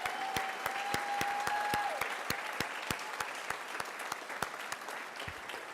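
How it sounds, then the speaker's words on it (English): Applause from the audience at a school district board meeting, a steady round of clapping with sharp individual claps standing out, moderately loud and continuous throughout with no talk over it. "One last round of applause."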